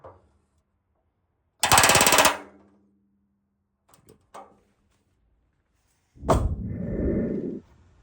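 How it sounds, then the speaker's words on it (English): Hammer blows on a rivet during metal repair work, two sharp broadband strikes a few seconds apart with faint taps between, loud and close with no talking. "Let's just hit the rivet."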